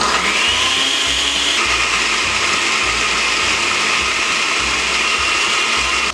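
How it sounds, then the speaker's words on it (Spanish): A blender purees tomatoes with salt into a red sauce for beef ribs. It runs as a loud, steady whir for several seconds, with a pitch shift early on and no talking. "Licuamos."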